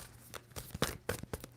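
A tarot card deck being shuffled up close makes a quick series of crisp riffling and flicking bursts in an uneven rhythm.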